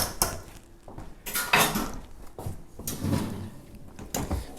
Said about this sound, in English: Just gonna grab a wooden spoon